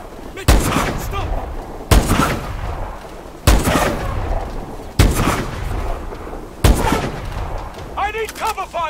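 Heavy single gunshots in Call of Duty Advanced Warfare, five loud booming blasts spaced one to two seconds apart, each ringing out with a reverberant tail, followed by a short burst of shouted voice at the end.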